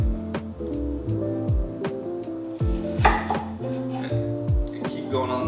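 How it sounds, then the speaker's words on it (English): Knife chopping an onion on a cutting board, a steady run of close, crisp taps at an even rhythm, with a voice talking over it. "That's just the way the onion folds itself when you're cutting into it."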